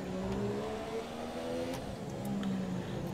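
A damaged Formula 1 car engine in F1 2017 revs continuously, a steady rough drone with shifting pitch that stays loud and close throughout, with no talking.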